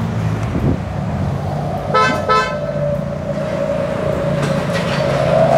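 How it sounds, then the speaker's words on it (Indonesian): A dual snail-shaped car horn on a Toyota Voxy gives two short, bright honks in quick succession over steady road and traffic noise. "Flosser ini dia punya dua klakson dan dia bentuknya keong,"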